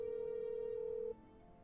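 A steady electronic telephone tone rings from a phone in a Nancy Drew mystery game, holding one pitch for about a second before cutting off, with faint room hum behind it.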